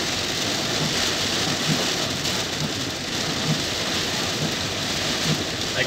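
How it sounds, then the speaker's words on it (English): Heavy rain pounds a car during a drive, a constant dense hiss of drops on the body and glass with a low rumble underneath. "You see the rain, Lisa?"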